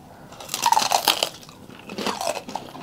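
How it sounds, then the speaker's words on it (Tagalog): Crispy lechon kawali, fried pork head, is bitten and chewed close up, with loud crackling crunches in two bursts and no talk. "Kaya unang kagat muna tayo."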